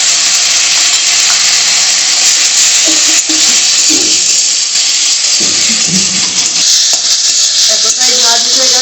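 Ginger, cumin, green chili and four cloves of garlic ground into a paste sizzle with fried potatoes in a hot pan, a loud, continuous, close-up hiss with brief scraping stirs partway through.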